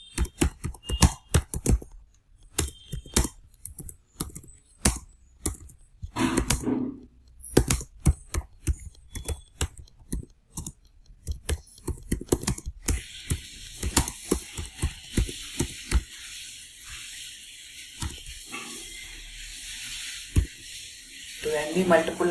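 Rapid clacking of keys on a computer keyboard while C code is typed, irregular bursts of close taps that continue through the clip, with a steady hiss joining in the latter half.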